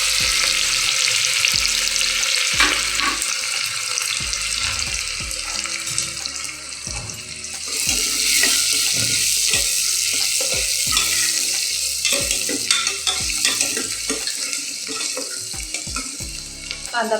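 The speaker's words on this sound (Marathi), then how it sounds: "कांदा गुलाबी रंग येईपर्यंत भाजून घ्यायचा आपण." Onion frying in hot oil with bay leaf in a pressure cooker for mutton curry, a steady loud sizzle with intermittent stirring scrapes and clatter throughout.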